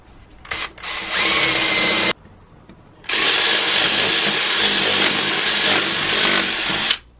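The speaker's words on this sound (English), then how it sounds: "I'm going to use a Forstner bit. I'm going to drive it about halfway down the 2x4." A drill bores into a 2x4 with a Forstner bit, two loud steady whirring runs, a short burst then a longer one after a brief pause.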